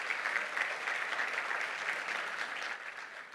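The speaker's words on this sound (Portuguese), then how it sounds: "Pode dar uma salva de palmas para Jesus." A church congregation claps steadily in praise of Jesus during a worship service, a soft even wash of applause that thins slightly toward the end.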